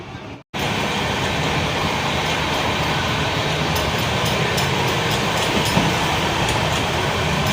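After a brief moment of quiet, a train rumbles steadily along the rails with a constant, close mechanical roar and faint rhythmic clatter.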